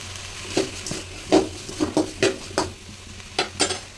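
A spatula stirs and scrapes ingredients with rock salt around a kadai over a soft sizzle, giving about a dozen irregular metallic knocks close by, with no voices.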